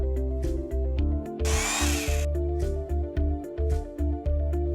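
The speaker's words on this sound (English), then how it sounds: "Use an electric drill to drill holes at the marked position." An electric drill whirs in short repeated bursts, revving up and down, with one longer harsh grinding stretch as it bites into a wall.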